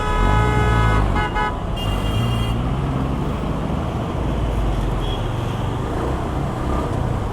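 Car horns honk in heavy traffic at a toll naka on a road out of Mumbai, with a long loud blast early on among other toots over a steady roar of engines and road noise.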